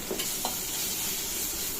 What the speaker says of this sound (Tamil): மஞ்சத்தூளை சேர்த்து வதக்கி விட்டுறலாம்.